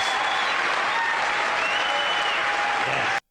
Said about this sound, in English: I just want to hear a little more clapping for George Carlin because he definitely deserves it